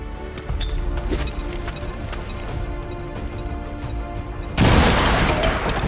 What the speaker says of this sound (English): let's see if Ann Russell can throw this grenade far enough. She can. Frag out.